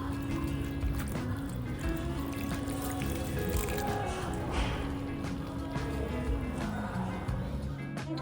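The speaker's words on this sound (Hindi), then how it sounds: "तो एक एक इसमें पानी डाल दे रही हूँ।" Water is poured into a dried-out potted plant at home, making a faint, soft trickle and splash, quiet and close.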